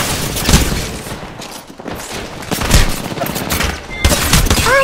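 Rapid bursts of gunfire in the battle royale game Apex Legends, loud and close, with several volleys and scattered single shots over about five seconds and no talking.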